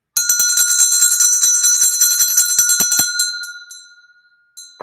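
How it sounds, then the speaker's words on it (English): A hand bell rings rapidly and loudly close by, a rhythmic series of bright metallic strikes for about three seconds that slows and decays, followed by one last single ding. "I'll ring the bell to get you excited."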